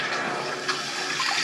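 An old-style toilet cistern, newly fitted with a flexible hose, fills with water in a steady, close rushing hiss that runs without a break and has no talk over it.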